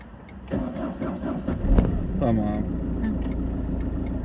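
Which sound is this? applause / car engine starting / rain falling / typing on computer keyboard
car engine starting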